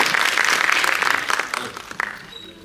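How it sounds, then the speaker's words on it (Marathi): Audience applause at an honouring ceremony, loud dense clapping from a crowd that tapers off within about three seconds. "जोरदार टाळ्या झाल्या पाहिजे।"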